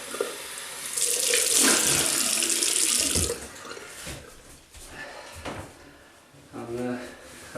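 A bathroom tap runs strongly for a couple of seconds while a safety razor is rinsed under it. The water then trickles and splashes in short bursts, with soft clunks of the razor, and someone speaks briefly.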